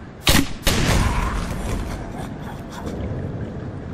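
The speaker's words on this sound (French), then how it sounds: "Je lui ai lancé une petite grenade bien gentiment" A grenade blast in the game Black Mesa, a sudden loud double crack and boom followed by a rushing, decaying roar and debris noise, with no talk.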